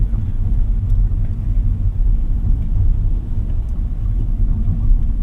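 A Hyundai Stargazer X with a CVT gearbox pulls along under acceleration, its engine and road noise forming a loud, steady low rumble that fills the cabin throughout, with no voices.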